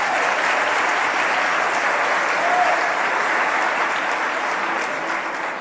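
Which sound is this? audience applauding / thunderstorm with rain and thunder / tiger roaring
audience applauding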